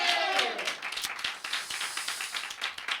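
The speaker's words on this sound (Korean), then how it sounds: "우리 하나님께 박수로 영광 돌리겠습니다" A church congregation applauding during an online Sunday worship service, a scattering of hand claps that starts fuller and thins into irregular, separate claps over quiet background.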